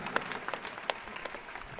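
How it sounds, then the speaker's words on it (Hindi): An audience applauds at a school handball competition award ceremony, faint scattered clapping heard from a distance with a few sharper individual claps. "जोरदार तालियों से अभिनंदन और स्वागत करें।"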